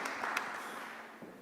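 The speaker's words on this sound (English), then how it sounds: "also for him a big applause" Audience applause at the Gaia-X Summit 2022, a steady, dense patter of many hands in a large room that fades slightly toward the end.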